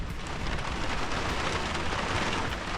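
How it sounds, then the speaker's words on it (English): Steady rain falls continuously on an outdoor setting, a dense even wash of drops spattering on surfaces, loud and close throughout with no pauses. "it has not stopped raining."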